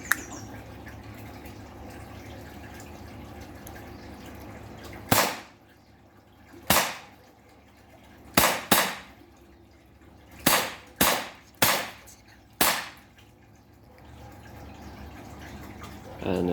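Sharp, loud shots from a KWC CO2 airgun ring out seven times at irregular intervals, some in quick pairs, each a crisp crack with a short decay over a quiet background.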